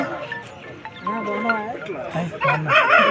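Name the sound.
rooster at a Vijayawada rooster market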